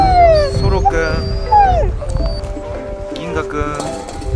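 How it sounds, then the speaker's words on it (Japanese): Sled dogs at a winter safari park in Sapporo, Hokkaido, howl with long rising and falling wails, mixed with whimpers and yips from several animals close by, over a busy outdoor background. "これが犬ぞりの犬ですね"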